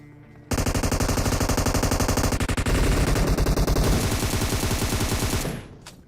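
Rapid, sustained automatic gunfire from PUBG Mobile with scorching ammo switched on, a loud continuous burst lasting about five seconds before cutting off, with no talking.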